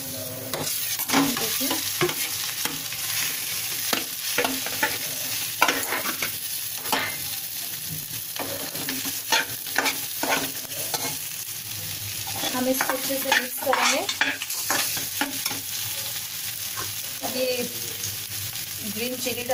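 Potatoes fry over a low flame in a pan with a constant close sizzle and repeated scraping and clinking of a spoon as they are stirred, in uneven bursts throughout.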